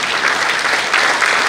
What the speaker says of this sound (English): let's give a great applause to all of them